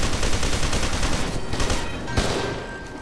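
Dense, loud gunfire from F.E.A.R. 2: Project Origin roars in a continuous rapid barrage, with a sharper shot near the end before it tapers off slightly.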